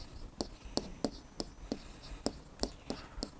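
A pen or pencil scratches on paper in about a dozen short, evenly spaced strokes, close and crisp against a quiet background.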